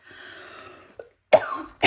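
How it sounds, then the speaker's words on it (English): A woman coughs several times indoors, short harsh bursts breaking a soft stretch of faint sound, with the strongest coughs close together near the end. "I was trying to talk and cough at the same time"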